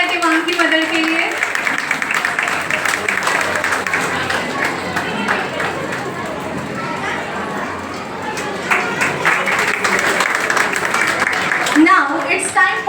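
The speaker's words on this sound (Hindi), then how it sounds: "एक बार जोरदार ताली हो जाए देवांग की मदद के लिए" A school crowd gives a dense, loud round of clapping for a student at a Mother's Day award ceremony honouring top students and parents, with voices chattering underneath throughout.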